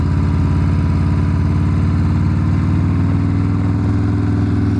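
Perewitz custom Harley-Davidson Softail Slim with a 131 engine, a loud steady lumpy V-twin thrum while riding, close and continuous throughout with no talk.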